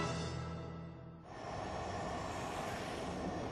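A U-2 spy plane's jet engine roars as a steady, broad rushing drone, briefly dipping before swelling back to full strength as it passes overhead.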